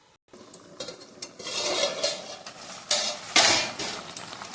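Metal pot lid clattering on and off a cooking pot on a gas stove, a string of clinks and knocks of varying loudness, the sharpest rattle near the end, close by with no voices.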